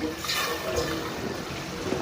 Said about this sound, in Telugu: ఇంకా మనకి మనకి కావాల్సినంత వాటర్ అయితే పోసేసుకుందాము